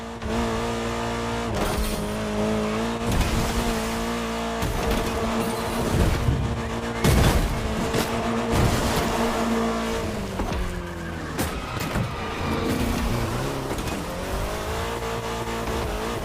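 An Austin Mini Cooper S in the racing game The Crew Motorfest drives with a revving, shifting engine note, with tire squeals and skids cutting through a continuous loud drone.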